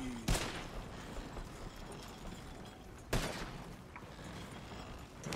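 Gunfire in Red Dead Redemption 2 from a sniper rifle in a wild outdoor setting, two sharp, loud cracks about three seconds apart over a constant rushing ambient bed.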